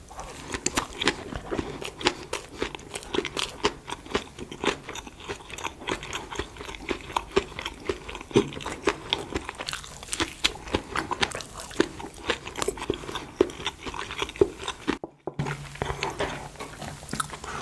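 Corn bread with a cream cheese filling and a walnut-cake-like crumb is bitten and chewed up close in a dense run of crunchy, moist mouth sounds, with no talking.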